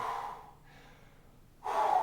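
Heavy, audible breathing after a set of kettlebell swings, a strong rasping exhale, a quieter pause, then another forceful breath close to the microphone.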